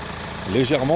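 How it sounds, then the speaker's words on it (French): Car engine idling steadily during a hydrogen decarbonising engine clean, with a low hum that rises slightly toward the end as if lightly revved. "le moteur, il tourne, et toutes les 10 minutes, on accélère pour sortir la saleté"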